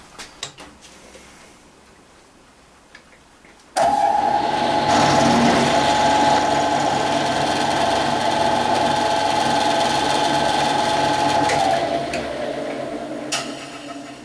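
Milling machine facing the sides of a steel block: a quiet start, then a loud steady cutting drone with a whining tone runs for several seconds before easing off.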